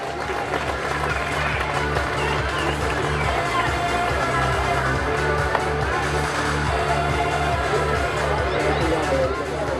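A crowd at a youth cricket league prize giving on an oval applauds a player, with sustained, dense clapping mixed with crowd chatter throughout.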